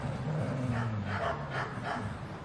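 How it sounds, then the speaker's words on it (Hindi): A pack of ten to twelve big black dogs barking as a sound effect in a Hindi audio drama, several rapid barks and yips bursting out over a steady low background rumble, close and fairly loud throughout. "10-12 बड़े बड़े काले कुत्ते इधर उधर घूम रहे थे"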